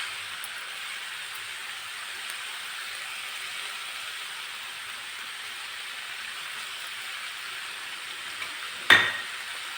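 Bhogi bhaji, a mixed vegetable masala dish, is being sautéed in a pan, giving a steady soft sizzle throughout with one sharp clack of a utensil near the end.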